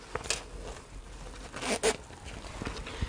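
Zips handled while sewing a fabric tool wallet give short, quiet rasping zip bursts at irregular intervals, close by, with soft fabric rustling between them.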